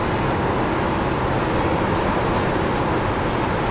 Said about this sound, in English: You hear me playing with the throttle there?